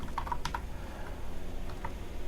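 Code is typed on a computer keyboard in a quick run of light, close key clicks followed by a single later tap, against a quiet background hum.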